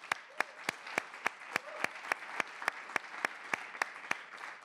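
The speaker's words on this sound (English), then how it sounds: "Let's give another round of applause to them" An audience at the MIT Bitcoin Expo 2020 closing applauds the hackathon winners, clapping in a regular, even rhythm over a soft wash of crowd noise, somewhat distant and quiet.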